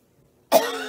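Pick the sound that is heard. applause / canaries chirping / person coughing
person coughing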